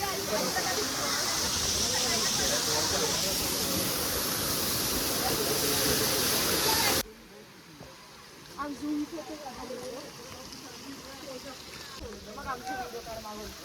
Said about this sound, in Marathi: हा धबधबा